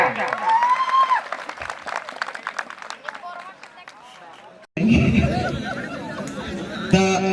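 A crowd at a Lohjhar dance competition claps hard in a dense, steady wash, with chatter and a shrill whistle mixed in. The noise dips briefly, then surges back even louder and fuller until the end.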